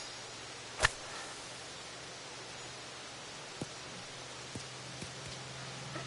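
Soft, steady rain hiss fills a golf video game, faint and even, with a sharp swing-like whoosh near the start and a few light ticks later, no voices.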